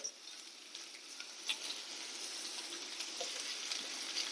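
Chopped onion, ginger and garlic sautéing in a pan, a steady close sizzle with soft pattering crackles and an occasional stir, running alone without speech.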